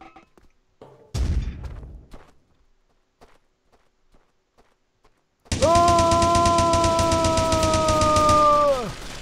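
Gunfire bursts out in Toy Factory, a game: a sharp shot at first, then after a quiet gap a loud, sustained rapid-fire stream that holds for several seconds before cutting off.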